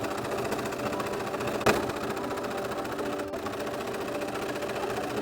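A sewing machine stitches down the center back seam of a ruffled fabric cloak, a fast, steady mechanical whir running throughout at close range, with one brief knock partway through.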